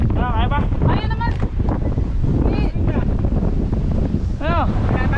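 Strong wind roars across the microphone in a loud, continuous buffeting while biking uphill on Bokor Mountain in Cambodia, with voices and shouts breaking through over it.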